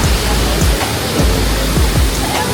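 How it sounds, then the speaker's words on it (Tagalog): Steady roar of a waterfall at Little Niagara Falls in Taiwan, a loud broadband wash of rushing water with no pauses, close by and filling the whole scene. "So, dito na tayo sa waterfalls. Sabi pa nila Little Niagara Falls daw."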